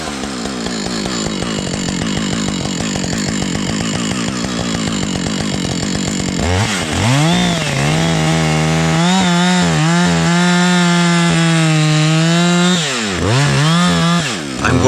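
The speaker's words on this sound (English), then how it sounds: "I'm just going to cut right through it because this is just another big rotten log." A chainsaw runs on a trail as it cuts through a big rotten log, loud and close, a steady buzzing drone that shifts pitch partway through as the bar bites into the soft wood and the engine bogs, continuous throughout.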